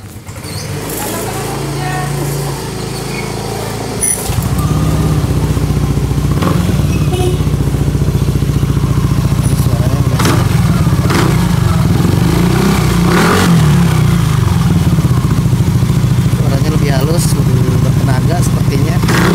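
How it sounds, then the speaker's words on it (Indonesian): A Yamaha Aerox 155 / NVX 155 scooter engine fires up around four seconds in, then idles and revs steadily and loud up close, running continuously to the end. "nanti kita coba hidupkan mesinnya."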